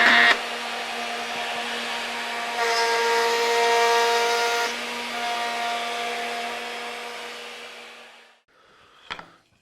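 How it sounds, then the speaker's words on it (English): A wood router running a plunge cut through wood, guided by a parallel double-fence jig: a steady loud motor whine with a rising pitch as the bit bites in, ending in quiet and a brief clack. "So this will have to be a plunge cut, and that'll start right there"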